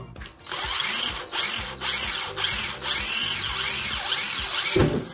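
An electric drill with a 2.5 bit whines in repeated short bursts, stopping and starting as it bores holes in speaker box feet, close and loud.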